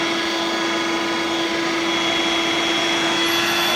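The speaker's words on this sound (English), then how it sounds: "it also has a feature that you can use as a vacuum cleaner" A Dirt Devil Vibe 3-in-1 corded bagless stick vacuum cleaner runs with a steady, close, loud motor whine and airy rush, unbroken throughout with no talk.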